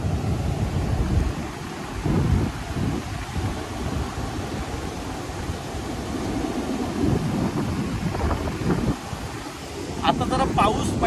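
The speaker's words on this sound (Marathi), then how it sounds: "आता जरा पाऊस पडतोय ना" Heavy monsoon rain pours over a stormy beach with a rough sea in June, a dense continuous roar mixed with strong wind buffeting the microphone, and faint voices near the end.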